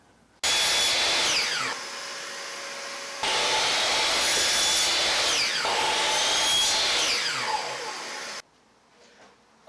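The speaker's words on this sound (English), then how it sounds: "I then used my planer for a more accurate sizing." Power planer sizing a long wooden strip, running loud and close in two sustained passes with a brief lull between, its whine shifting as the blade bites the wood, then cutting off abruptly.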